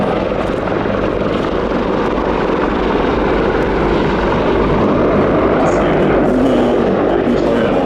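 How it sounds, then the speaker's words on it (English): A Sikorsky CH-53K King Stallion heavy helicopter hovers at an air show, a loud, steady, dense rotor and turbine roar holding constant throughout. "the Stallion is able to maintain a precise hover over an exact spot with no input from the pilot"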